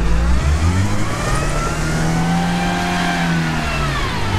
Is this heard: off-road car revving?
yes